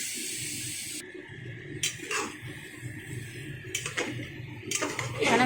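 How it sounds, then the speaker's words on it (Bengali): Rice is poured into a pan of vegetables and spices for veg pulao, giving a steady dry rushing patter with a few clinks and scrapes from the pan, heard alone and close. "চালটাকে এখানে ঢেলে দেবো।"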